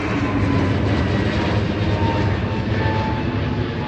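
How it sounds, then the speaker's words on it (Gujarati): A loud, steady engine roar from an airplane passing overhead holds at the same level throughout with no voices. "ત્યાં તો વિમાન આવી ગયું"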